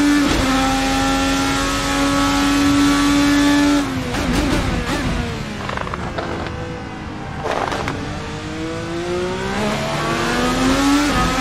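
A 1000-horsepower IndyCar engine in a racing game screams up through the gears, loud and close, with sharp drops at each shift and renewed climbing whine, no talk.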